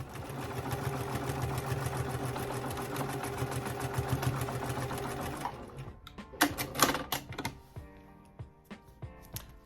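A sewing machine stitches an African print fabric pouch through four layers of fabric and lining, running in a steady, dense, continuous whir for several seconds before stopping, followed by scattered clicks and handling noises.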